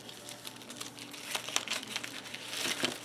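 A plastic bag crinkles and rustles as items from a Christmas kit are packed back in, with close, irregular crackles that grow busier toward the end.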